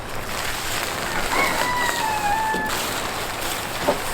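Chickens near an Airbnb in Miami Beach, with a single rooster crow rising and holding in the mid-distance over steady background noise.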